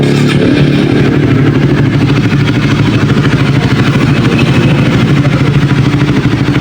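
A motorcycle engine running loud and close after a fuel injector filter replacement, a steady throbbing idle that holds for several seconds without talk.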